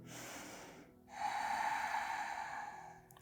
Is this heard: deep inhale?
yes